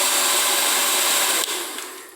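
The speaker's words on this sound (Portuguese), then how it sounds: "pega o secador de cabelo da esposa aí" A hair dryer blows steadily at a charcoal barbecue grill to get the fire going, a loud, continuous close-up rushing whoosh that shifts slightly in tone partway through and then eases off a little.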